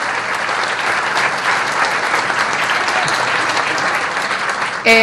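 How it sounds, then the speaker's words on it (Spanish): Crowd applause for the comrades at a Peronist political rally in Argentina, dense and sustained for about five seconds, with a voice briefly rising at the very end. "Un aplauso para los compañeros"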